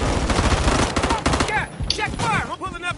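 Bursts of gunfire from a Call of Duty Modern Warfare 3 multiplayer match crackle in rapid clusters, mixed with game sounds and voice callouts.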